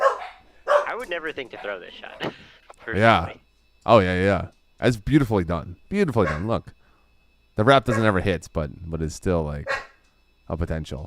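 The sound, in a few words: dogs barking in the background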